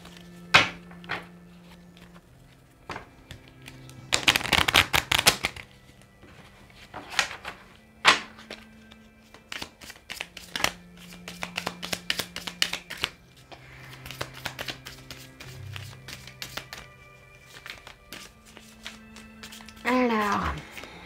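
Tarot cards being shuffled in a couple of bursts of riffling, close and crisp, with a voice talking between them.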